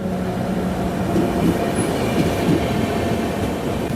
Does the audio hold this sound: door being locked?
no